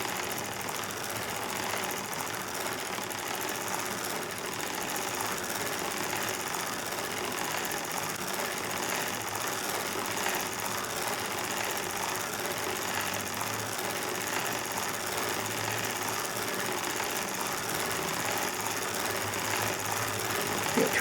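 A hand-cranked knitting machine works rows of ribbing, a loud, steady whirring and clattering rattle that runs on without a break.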